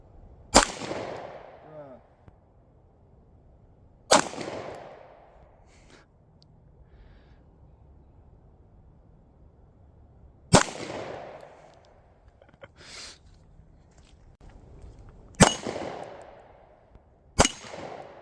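Gunshots ring out at an outdoor steel plate target, five or six sharp loud cracks spaced several seconds apart, each trailing off with a brief ringing decay, with faint background noise between shots.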